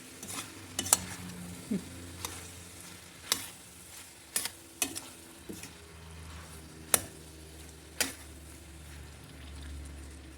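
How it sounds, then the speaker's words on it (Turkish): Meat and tomatoes sizzle quietly as they sauté in a pan while a utensil scrapes and taps against it now and then, close by and with no talking. "Şimdi böyle de kavrulsun."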